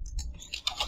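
Quick keystrokes on a computer keyboard while entering an nmap command, a short burst of several light, crisp clicks close to the listener.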